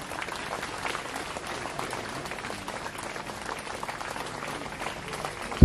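Steady crowd clapping during a fiftieth-anniversary jubilee mass at a parish church, a continuous, moderately distant patter of many hands with no voices rising above it.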